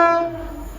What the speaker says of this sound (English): this is the Hull train now